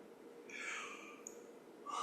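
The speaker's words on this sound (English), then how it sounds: "There was my yawn." A person yawns during a somatic movement session, a long, quiet, breathy inhale that rises and stretches out, then a short sharp breath at the end, close and alone.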